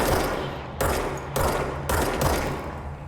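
Rapid automatic gunfire in the video game Control, several dense bursts separated by short gaps, loud and close with no talking over it.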